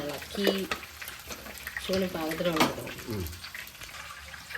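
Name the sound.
stirring chicken masala in a pan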